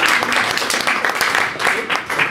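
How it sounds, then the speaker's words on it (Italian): Audience applause fills a live band show at Crazy Bull, a dense, steady wash of clapping and cheering throughout, with voices mixed into the crowd noise. "Fate un applauso per favore."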